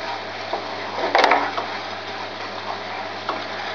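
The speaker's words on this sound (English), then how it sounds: "Mix it all up." A spoon stirs breadcrumb stuffing mixed with melted butter in a pan, producing soft scraping and light crackling taps, with one sharper clack near the middle over a faint hum.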